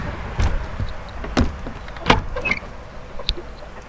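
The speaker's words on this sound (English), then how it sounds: "Shut the door." A garden or gate door shut outdoors in the rain, heard as several sharp thuds and rattles spread over a few seconds, with small clinks between them and no talk.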